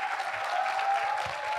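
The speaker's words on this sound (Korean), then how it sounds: "박수로 맞이해 주시기 바랍니다." An audience claps to welcome the lead vocalist and keyboardist of a band at a talk concert held at the National Assembly. The applause is steady and moderately loud over a faint background hum.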